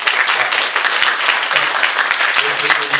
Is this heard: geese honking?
no